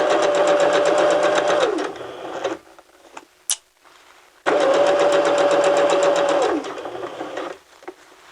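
A sewing machine with a zipper foot stitching alongside a zipper coil, two fast steady runs of rapid mechanical stitching separated by a pause with a single sharp click, close and loud.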